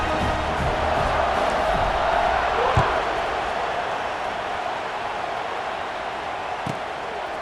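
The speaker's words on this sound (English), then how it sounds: "this crowd is feeling themselves after that last drive" Stadium crowd in a College Football video game, a steady broad roar of cheering that stays constant and moderately loud throughout.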